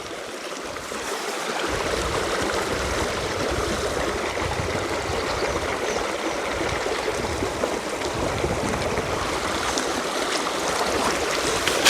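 A mountain river rushes over rocks among highland pastures, a steady, loud, close broadband roar of flowing water that runs without a break.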